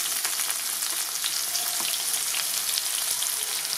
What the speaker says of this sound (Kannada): ಈಗ ಇದನ್ನ ತಿಳಿ ಕಂದು ಬಣ್ಣ ಬರುವವರೆಗೂ ಫ್ರೈ ಮಾಡ್ಕೋಬೇಕು.